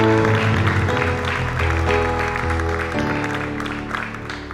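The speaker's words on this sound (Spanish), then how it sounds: "Fuerte ese aplauso para el Señor" A church congregation claps loudly and steadily during a worship service, a dense, sustained applause that gradually eases off, with music tones and voices blended underneath.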